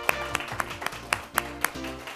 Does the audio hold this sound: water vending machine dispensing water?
no